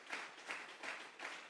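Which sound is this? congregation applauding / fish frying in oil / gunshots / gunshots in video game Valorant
congregation applauding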